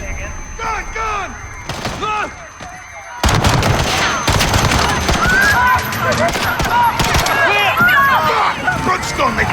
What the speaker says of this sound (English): There's been a detonation at Piccadilly Circus. Shots fired.